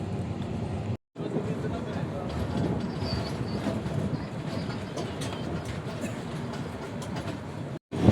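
An Indian passenger train on the route from Kolkata toward Beohari runs on the rails with a continuous rumbling roar and faint rhythmic clatter, heard from inside the carriage with a voice talking over it.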